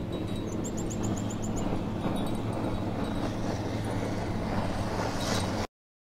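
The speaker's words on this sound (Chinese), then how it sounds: "这个是曼谷河畔的氛围。" Riverside ambience in Bangkok: a dense, steady wash of distant traffic and city rumble, with faint bird chirps near the start, continuing evenly until the sound stops abruptly.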